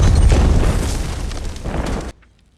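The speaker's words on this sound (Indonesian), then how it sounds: "Tak lama berselang terjadi sebuah ledakan yang membuat suasana hening seketika." A huge explosion in the film Civil War (2024): a deep, roaring blast with a long rumbling tail that fills the space, then cuts abruptly to near silence.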